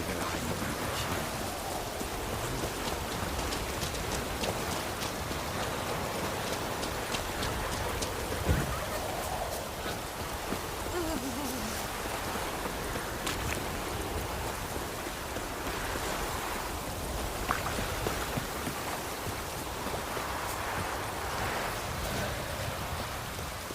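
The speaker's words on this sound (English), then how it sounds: "let it rain. Wash the blood from the fields." Steady rain falling continuously in the video game The Witcher 3: The Wild Hunt, a dense even hiss with scattered drips and faint rumble, no talking.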